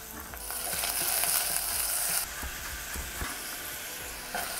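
Sliced carrot rounds and fresh ginger hit a hot pan with a loud, steady sizzle that drops a notch partway through, with faint stirring clinks, no voices.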